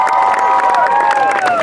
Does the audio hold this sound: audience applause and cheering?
yes